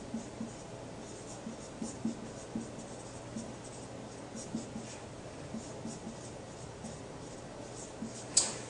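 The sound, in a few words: writing on a surface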